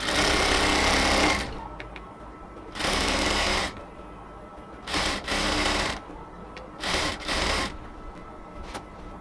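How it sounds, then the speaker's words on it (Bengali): A sewing machine stitches alongside the elastic on a ladies' trouser waistband in loud, steady bursts, starting and stopping several times with short pauses of quiet handling between runs. "আমি ইলাস্টিকের পাশ দিয়ে সেলাই করতেছি কাপড়টা বাড়তি রেখে।"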